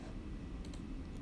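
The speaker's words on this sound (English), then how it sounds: "Sorry if you'll hear my mouse clicking." A few faint, quick computer mouse clicks, spaced irregularly, over a steady low background hum in a quiet room.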